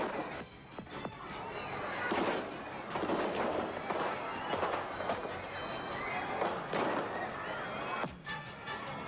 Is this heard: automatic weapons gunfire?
yes